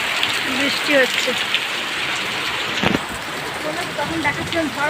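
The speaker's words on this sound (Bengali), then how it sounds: "এখন বৃষ্টি হচ্ছে" Steady rain falls outside a home during a storm on the eve of Eid al-Adha, a dense close patter with faint scattered bird chirps and no speech.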